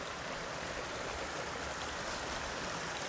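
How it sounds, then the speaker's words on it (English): A mossy forest stream flows with a steady, full rush of water that stays even and close throughout, with no other sounds standing out. "Beautiful mossy streams."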